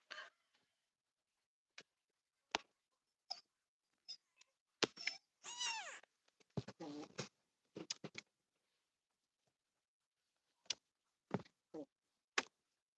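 Scattered, faint high-pitched mews from small kittens, some short and some drawn out, separated by quiet gaps and a few soft clicks.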